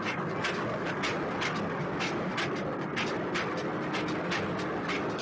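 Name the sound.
narrow-gauge mini train running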